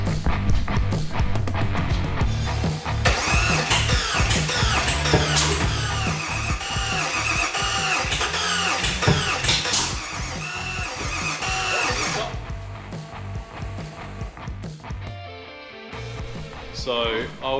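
A Procharged 411ci Windsor V8 in an XY Prince is cranked with the key and fires up, settling into a loud, rough, lumpy idle with revs rising and falling, while voices talk over it.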